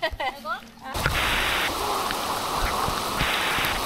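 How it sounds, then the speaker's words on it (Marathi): Heavy rain starts falling over a Konkan rice field during paddy transplanting, a sudden loud, dense hiss of downpour that cuts in after brief voices and continues steadily. "मस्त असं जोरदार असा पाऊस स्टार्ट झाला."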